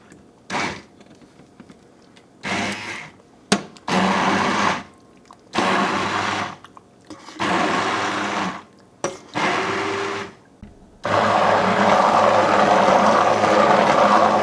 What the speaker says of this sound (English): I'm gonna use my immersion blender to blend it all up.